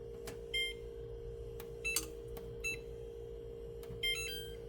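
An oven timer gives several short, faint electronic beeps spaced irregularly as it is set, over a steady kitchen hum, with no talking.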